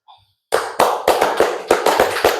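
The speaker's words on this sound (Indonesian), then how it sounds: "Tepuk tangan semuanya." Sharp, close handclaps ring out after a short voice, about eight loud claps in an uneven rhythm from a small group rather than a large crowd.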